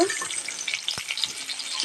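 Okra and potatoes frying in a pan with salt and turmeric, a close, bright crackling sizzle with a brief stirring knock partway through.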